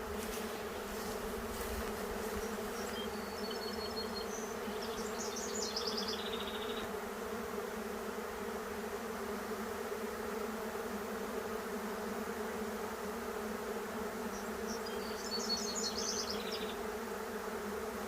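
A swarm of honeybees hums continuously, a dense low buzzing drone with layered tones, steady and close throughout, with faint bird chirps breaking through twice.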